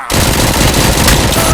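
Rapid automatic gunfire rattles loud and close in the Robocop Rogue City video game, a dense, unbroken stream of shots aimed at the player.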